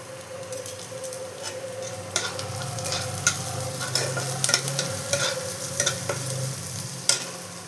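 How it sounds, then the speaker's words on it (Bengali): Onions and chopped chili fry in a pan, a soft continuous sizzle under repeated light scrapes and taps of stirring, fairly faint and steady throughout. "পেঁয়াজটা হালকা করে ভেজে নেব। কুচনো লঙ্কা দিয়ে দেব"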